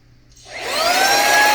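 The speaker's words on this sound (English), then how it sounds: "Now the vacuum does have 3 speeds and I want to show them to you now." An AUXTUR handheld cordless car vacuum cleaner switches on from silence, its motor whine spinning up over about a second into a loud, steady, close high-pitched hum.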